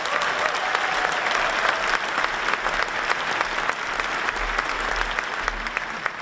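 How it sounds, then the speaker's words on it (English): Audience applause at a Virginia Tech athletics press event, steady dense clapping from a sizable crowd that holds evenly for several seconds without talk over it. "Could we please give President Sands a round of applause"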